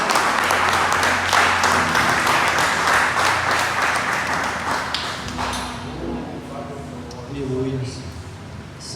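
Church congregation at a celebration service applauding, a dense wash of clapping over the first half that thins out as voices and music-like tones take over toward the end.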